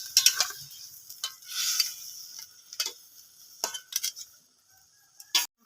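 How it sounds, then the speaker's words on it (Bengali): A spoon scrapes and clinks against a pan while vegetables are stirred into a thin egg curry, giving several separate sharp taps and scrapes with short quiet gaps between them, close and fairly soft. "যে সবজিটা আছে ওর মধ্যে দিয়ে দেবো, দিয়ে ভালো করে একটু নেড়ে নেব"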